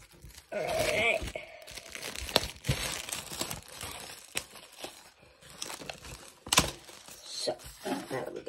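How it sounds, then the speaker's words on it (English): Plastic wrap being torn and pulled off a Pokémon elite trainer box, close irregular crinkling and crackling with sharp rips scattered throughout and varying loudness. "let's get the box out of the plastic."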